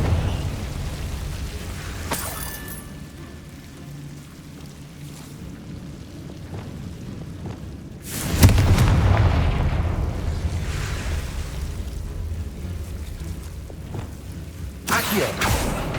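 A Confringo blasting spell bursts in Hogwarts Legacy: a sudden loud booming explosion with a low rumbling tail that fades over several seconds, followed later by a shorter sharp burst, over a quiet game ambience.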